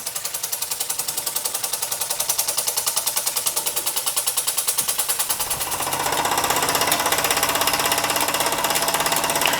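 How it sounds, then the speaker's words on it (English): A Mamod SP2 model steam engine runs steadily, its rapid even chuffing beats holding a fast rhythm throughout and growing louder and brighter partway through, close and alone. "For a model steam engine, I think that runs rather nice."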